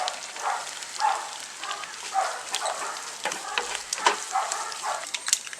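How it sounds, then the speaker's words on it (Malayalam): Grated coconut fries in a pan with onions for Kerala pumpkin-and-bean erissery, a close, steady crackling sizzle with frequent small pops and occasional louder ticks. "ശകലം തേങ്ങാപ്പീര മാറ്റി വെച്ചിട്ടുണ്ട് ഒന്ന് വറുത്തെടുക്കാൻ വേണ്ടി."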